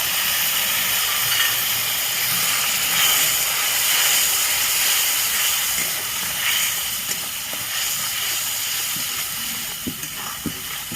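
Water from rinsing a bowl of ground poppy-seed paste goes into a hot pan for shahi paneer, and a loud, continuous steamy sizzle and hiss fills the sound throughout, with a few small pops and clicks near the end.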